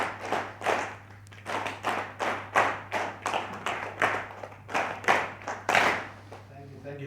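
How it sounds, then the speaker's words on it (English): A room of executives claps in unison on a countdown, about a dozen rhythmic synchronized claps in a steady beat, moderately close with light hum beneath. "Director Martin, this is the only opportunity we can ask the CEOs to clap."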